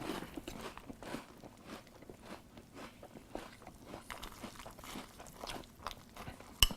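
Kellogg's Unicorn cereal with milk being chewed close up, a steady run of soft, wet crunches and bites with no talking.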